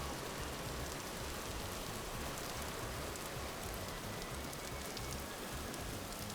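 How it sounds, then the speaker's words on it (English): Heavy rain pours in the video game Vintage Story, a dense, even hiss of drops on surfaces that stays constant and fills the scene, with no voices. "I love how the sound of the rain is so loud it's drowning out the music."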